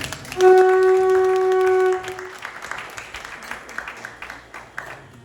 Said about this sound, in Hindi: तो बहुत बड़ी तालियों के साथ में डॉक्टर रविंद्र जी का स्वागत है।